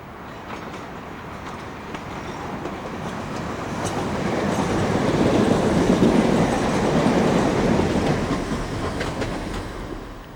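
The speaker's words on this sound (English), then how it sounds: "the Wimbledon train arrives at the dedicated platform at West Croydon." A British Rail train rumbles into a dedicated platform at West Croydon station in the 1990s, its broadband roar swelling and holding steady with faint clatter and squeal, moderately loud and fairly close, no voices.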